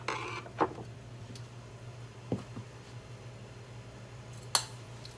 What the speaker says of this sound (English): So I'm going to pop the old one out with a screwdriver.